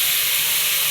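Water hits a hot pan of spiced lentil masala with potato and sweet pumpkin, bursting into one loud, continuous sizzling hiss, close and alone.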